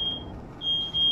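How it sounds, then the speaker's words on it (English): A smoke alarm set off by vaping beeps in steady high-pitched tones, with a brief gap before the next beep, heard indoors at moderate volume over a low background hum. "Oh no! Fire alarm!"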